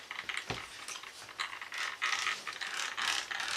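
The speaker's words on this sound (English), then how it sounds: "Now I am still getting this roughness from the motor" The electric motor of a SkyRC 1/4 scale motorbike runs roughly, giving a quiet, close, uneven ratcheting rattle with gritty clicking bursts and no voices.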